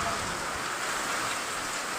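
Steady rain pours down in a dense, even hiss with no break, close and fairly loud throughout.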